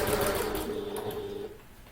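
A sewing machine runs steadily while stitching through a bulky handbag, a continuous close mechanical whir that softens and stops near the end.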